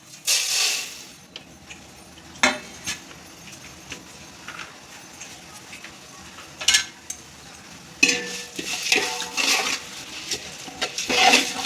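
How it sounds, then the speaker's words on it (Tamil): Spice powders fry and stir in hot oil in a large pot, giving a soft sizzle broken by scraping stirs and clinks of a utensil against the metal, with no voices. "இதெல்லாம் போட்டு இதில் வறுத்துக்கலாம்."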